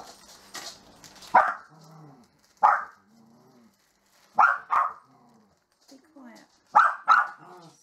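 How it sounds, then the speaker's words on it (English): Several dogs bark in short, loud bursts, roughly in pairs every second or two, with quieter whines and yips between them in an indoor setting. "Sorry about the dogs barking."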